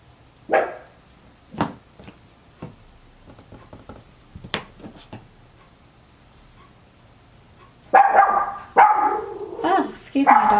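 A dog indoors barks in a string of sharp, separate yelps spaced a second or so apart, then a louder, denser flurry near the end as it reacts to people outside; faint background sounds sit underneath.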